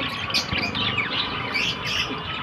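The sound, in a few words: budgerigars chirping at a bird shop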